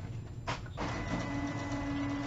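A printer runs steadily, close and fairly loud, as it prints photo stickers on a carrier sheet. A brief harsher mechanical whir comes near the start and a faint tone holds toward the end.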